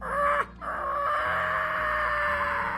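A hand-held game call imitates a crow: a loud, sustained nasal cawing tone with a brief break, close and alone.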